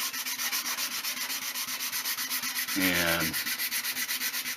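Sandpaper rubs back and forth over a curved wooden gun stock in quick, even strokes, close and steady, with one heavier scrubbing pass partway through and a single spoken word.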